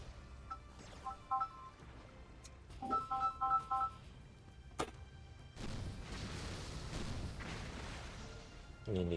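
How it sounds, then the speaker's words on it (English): A telephone emits several short runs of electronic dialing beeps in quick clusters, then a sharp thump and a stretch of broadband noise, heard in a room during game play recording. "You need to turn the phone off next time."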